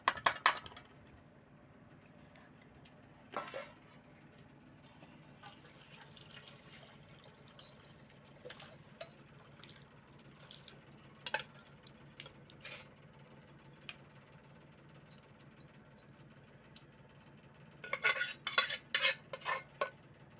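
Cooked Kalbat chicken poured out of a pressure cooker in a home kitchen, scattered clinks and scrapes of metal utensils against the pot, with a busier burst of clatter near the end, moderately close and no voices.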